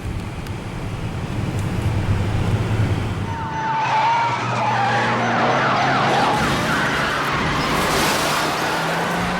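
Police car sirens wailing, rising and falling over loud traffic rumble in Chicago, the siren swelling and sweeping through several cycles as vehicles pass nearby.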